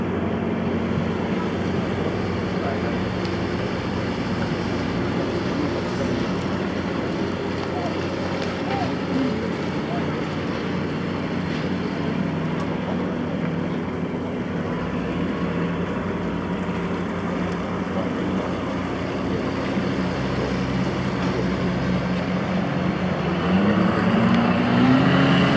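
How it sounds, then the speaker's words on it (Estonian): Loud boat motors running continuously, a heavy low drone with wind buffeting the microphone, steady throughout and swelling slightly near the end, no talk. "Hirmsad mootorid."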